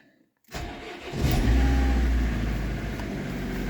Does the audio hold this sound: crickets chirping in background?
no